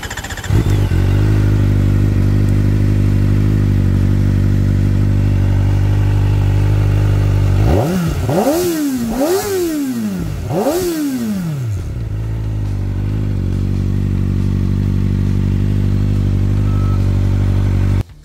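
Kawasaki Ninja ZX-4RR motorcycle idling steadily, then its exhaust revs sharply in three quick rising-and-falling blips before settling back to a loud, close idle.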